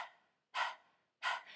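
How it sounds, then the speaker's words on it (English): Two sharp, breathy panting exhales through an open mouth with the tongue out, dog-like, during a kundalini yoga breathing exercise; each burst is brief and close, separated by short silences. "stick your tongue out like you want to pant like a dog"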